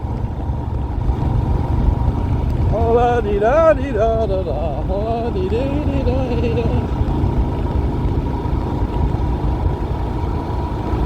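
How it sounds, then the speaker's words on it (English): Low, constant wind roar buffets the microphone on a moving Royal Enfield Himalayan motorcycle on a windy day, with someone talking briefly over it. "So it's a windy day today, as you can probably hear"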